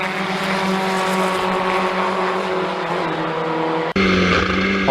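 Historic Formula Ford 2000 racing cars at Brands Hatch roar past in a steady, loud engine drone that drops briefly near the end, then returns as a harsher, closer on-board engine note.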